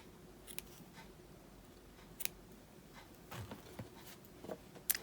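Scissors snip crochet yarn close to the work on a watermelon panel, several soft, quiet clicks and snips spaced over a few seconds in a hushed room.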